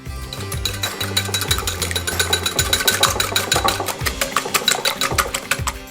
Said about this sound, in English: Mix that with a whisk.